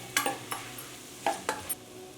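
A spoon scrapes through a spice mixture with Byadagi chili powder in a pan for mixed vegetable kootu, giving about six sharp stirring strokes in two bursts over a soft sizzle, with no talking.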